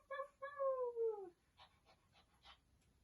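Children imitate a dog during a yoga class, giving a falling howl-like whine followed by a few short yips. The voices sound soft and somewhat distant.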